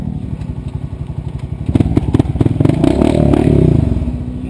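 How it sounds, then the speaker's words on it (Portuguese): A quad bike stuck in mud revs its engine hard and close, pulsing and then rising into a sustained roar, with clattering and scraping mixed in. "Motoca atolou aí! Me acelerando, acelera!"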